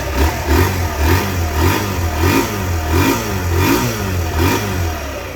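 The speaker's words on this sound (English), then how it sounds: "Little single cylinder thumper. Sounds good." A 2017 Kawasaki Z125 Pro's small single-cylinder thumper engine, heard close and loud, rising and falling repeatedly through steady throttle blips with a low, pulsing exhaust note and no talking.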